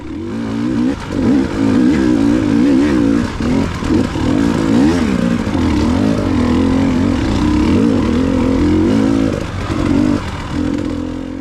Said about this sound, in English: Alright, letting those bikes by